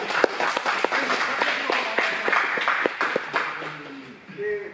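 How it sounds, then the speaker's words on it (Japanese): A crowd at a match between Hiroshi Miyoshi and Takahiro Morita breaks into steady applause, with sharp individual claps standing out near the front and background voices mixed in before the clapping fades. "皆さん盛大な拍手をお願いします。"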